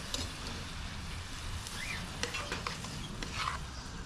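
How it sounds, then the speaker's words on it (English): Brown sugar and molasses sizzle in a pan while making bananas foster, giving a steady, close frying hiss with a few stirring scrapes and no talking. "It's already starting to sizzle."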